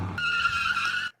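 Race car in a racing video game braking hard and skidding, a loud continuous tire squeal with engine roar lasting about a second before cutting off abruptly.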